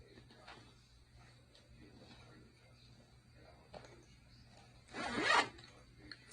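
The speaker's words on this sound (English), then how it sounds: "It's got a double zipper." Double zipper on a travel bag with a small hanging handle, ribbon trim and clear pockets, pulled once in a quick rasping burst near the end after a quiet stretch of faint rustling.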